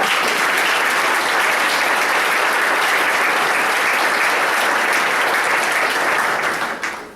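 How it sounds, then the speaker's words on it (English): Sustained, steady applause from an audience at an athletics hall of fame ceremony for a 2001 university women's soccer team, loud and dense throughout, thinning slightly at the very end. "Can we give her a round of applause?"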